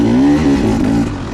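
A 2016 KTM 300 XC two-stroke dirt bike engine revs loud and close, a steady buzzing drone with pitch wavering up and down before easing off slightly near the end.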